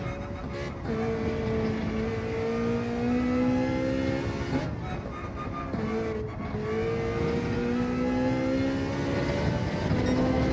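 A Ferrari 458 engine in the Gran Turismo 7 video game, loud rising revs climbing through gears with brief drops at each upshift, the back tyres spinning under hard acceleration.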